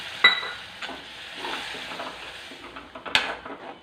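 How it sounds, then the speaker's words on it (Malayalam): Hot water poured into hot oil in a cooking pan sets off a steady close sizzle and bubbling, with a couple of sharp spits near the start and near the end and faint clinks of the pan. "ഇതിലോട്ട് നമ്മൾ കുറച്ച് വെള്ളം ഒഴിച്ച്, ചൂടുവെള്ളമാണേ"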